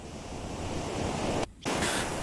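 Sea waves wash in a steady broadband roar with wind blowing along the shore, a brief near-silent gap breaking it before the surf and wind noise resume.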